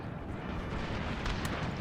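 Cannon fire from a Total War game set in the Thirty Years' War, heard as a continuous rumbling barrage of booms and blasts with no speech.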